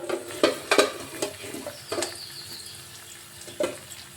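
Spice masala frying with egg in a pan as it is stirred, giving soft intermittent scraping clatters and a faint sizzle under quiet kitchen background.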